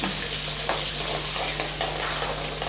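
Small shallots sautéing in a pan for fish curry give a steady, close frying hiss with a few soft stirring scrapes, and no voices.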